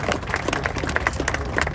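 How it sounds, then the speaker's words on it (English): A crowd at a boxing press conference applauds ring announcer Michael Buffer, a brief burst of scattered, dense hand clapping with a few sharper individual claps over low room noise. "Let's get a round of applause for Michael Buffer"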